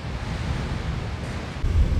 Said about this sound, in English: we get some close-ups of the waves now before we leave